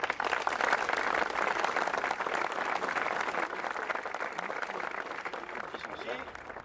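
An audience claps steadily and densely at a monument dedication ceremony, the applause loud and continuous throughout before easing slightly at the end.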